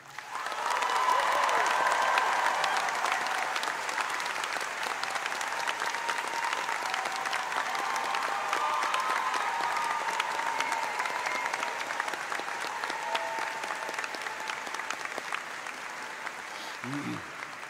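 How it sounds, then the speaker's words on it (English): A large commencement audience applauds the college faculty at an outdoor graduation ceremony, with sustained, even clapping that holds steady for a long stretch and sounds somewhat distant. "please join me in heartfelt applause for the Skidmore faculty"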